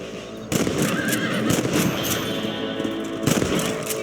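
Rifle shots at rabbits in the video game Red Dead Redemption: a sharp report, then more scattered shots over a busy mix of whinnying horses and ambient game sounds.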